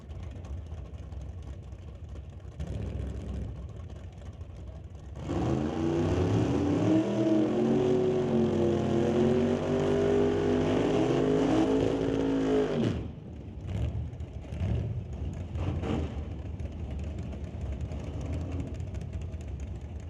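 A drag racing car launching down the strip at a 1980s-era bracket event, a loud sustained engine roar climbing in pitch for several seconds before cutting off, with lower engine rumble and crowd-area noise around it.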